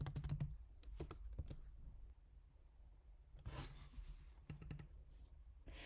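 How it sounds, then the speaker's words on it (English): Fingers tap a computer keyboard in short quiet clusters of clicks separated by pauses, close but faint in a still room. "You might want to type it in."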